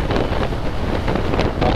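Steady wind blast roaring over the microphone while riding an Ola S1 Pro electric scooter in traffic, a continuous loud rushing buffet with no talking.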